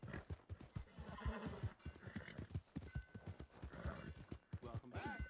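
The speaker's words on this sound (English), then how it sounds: "My horse is agitated by a predator." An agitated horse in a video game snorts and whinnies while its hooves clop in a quick, uneven rhythm, close and clear, with a few rising whinny calls.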